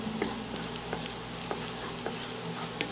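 Garlic and chili flakes fry gently in oil, a moderate continuous sizzle broken by light spatters and occasional stirring clicks of a utensil against the pan.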